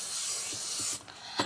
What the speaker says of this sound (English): take your hairspray, cover your face, spray the top